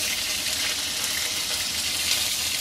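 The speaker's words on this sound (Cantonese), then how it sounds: "我哋將啲蟹最厚身嘅部分，咁點少少生粉，咁我哋落去煎咗" Thick pieces of crab dusted with starch pan-fry over high heat, giving a steady, dense sizzle and hiss that holds evenly throughout, close by and without talk.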